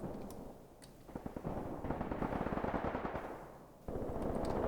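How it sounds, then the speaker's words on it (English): Battlefield combat in the wartime tactics game Graviteam Tactics: dense rattling bursts of gunfire roll together with heavy, booming artillery strikes. The barrage swells loud and continuous, eases briefly, then surges again, with no voices. "These artillery strikes are keeping the enemy down very nicely."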